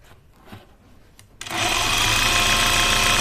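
Sewing machine stitching taffeta for a coat: a few faint handling taps, then the motor starts abruptly and runs in a loud, steady whirring hum of rapid needle strokes, close by, no talking.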